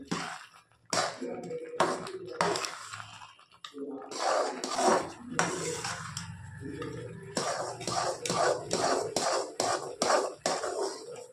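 A spoon scrapes and stirs a thick besan laddoo mixture with roasted almonds, pistachios and chironji in a pan, giving repeated rhythmic scraping strokes, close and fairly clear, while someone talks over it.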